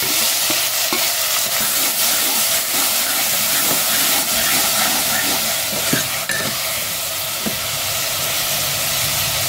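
Chopped tomatoes and onions fry for a mutton bone curry, making a loud, dense, unbroken sizzle and hiss close up, with occasional soft clicks of a spoon against the pan.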